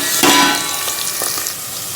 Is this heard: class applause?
no